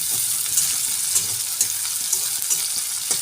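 Chopped onion sizzles steadily in a pan with mushrooms just lifted out, a dense, even hiss broken by faint stirring scrapes, close and continuous with no voices.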